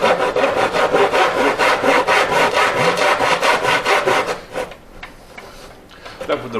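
A hand saw cuts a tenon in wood during the restoration of a James Silver Western Isles motor sailer, with fast, even rasping strokes up close that are loud and continuous, then slow and trail off near the end.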